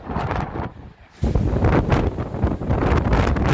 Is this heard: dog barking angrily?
no